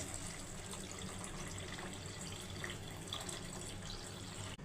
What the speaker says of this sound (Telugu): చింతపండు పులుసు పోస్తున్నాను